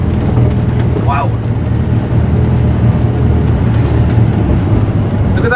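A Mercedes-Benz Unimog's engine labours steadily uphill in first gear, a loud, continuous low rumble close by from start to finish, with a voice talking over it.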